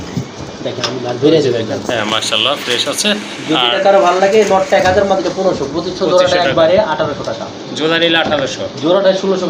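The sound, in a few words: pigeons cooing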